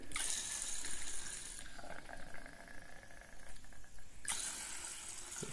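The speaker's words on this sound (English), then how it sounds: "As you can see, the water seems to be going in pretty good." Water from a tap rushes into a squirty-top aero water bottle for triathlon and time-trial cycling, a steady splashing hiss that eases into a gurgling, softer fill midway before the stronger flow returns near the end.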